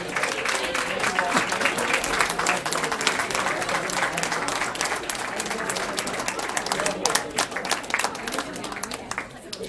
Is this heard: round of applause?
yes